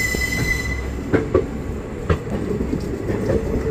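A train roars steadily through a tunnel on the Dudhsagar route in Goa, with a high squeal at first and a few sharp clanks over the rumbling.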